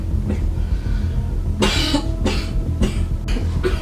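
A man coughs hard several times in quick succession, loud, harsh bursts close to the listener, over a low steady background rumble, with no talking.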